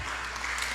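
Church congregation clapping together, a dense steady wash of applause filling the room throughout, with no voices standing out.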